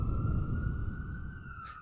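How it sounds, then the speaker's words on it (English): A single sustained emergency siren wails steadily in the distance, a thin tone over a rumbling low background, fading slightly toward the end. "I can hear the sirens in the background"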